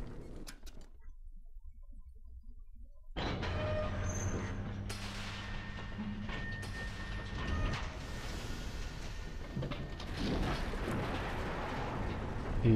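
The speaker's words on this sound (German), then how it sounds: "Ich fahre mit dem Zug." Train ride in the video game Bioshock 2: a steady, loud rumbling rail hum with low droning tones starts abruptly after a quiet opening and continues throughout, with occasional clanks and swells.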